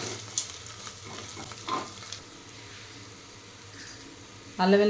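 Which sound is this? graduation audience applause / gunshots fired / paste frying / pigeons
paste frying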